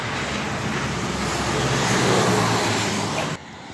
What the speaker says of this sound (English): There's a box truck.